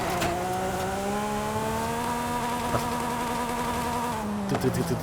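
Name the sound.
electric buzz of a drifting electric car in a video game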